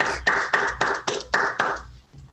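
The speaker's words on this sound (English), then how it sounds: "give both Tina and Donnell a little round of applause, please" Small audience at a trivia night giving a short round of applause, about seven distinct bursts of clapping in a loose rhythm, fairly close, fading out at the end.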